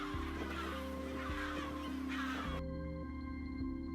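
Kelp gulls call over a cormorant colony, their harsh, overlapping cries steady and fairly close against a droning background tone with no talk.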